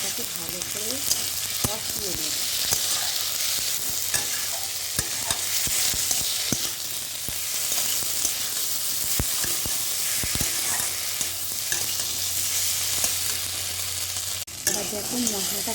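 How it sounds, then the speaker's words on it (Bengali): Spice masala for chana dal fries and gets stirred in a pan, a dense steady sizzle broken by repeated scraping clicks of the spoon, close and continuous throughout. "এবার আমি মশলাটাকে ভালো করে কষিয়ে নেব"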